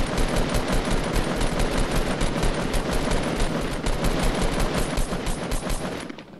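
Rapid automatic gunfire in Fortnite, a dense continuous stream of loud, sharp shots rattling for several seconds before trailing off at the end.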